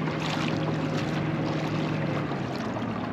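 PacMotor trolling motor running on a boat, a steady droning hum with a low tonal whine, masked by broad wind and water noise throughout; no clear stop within the span.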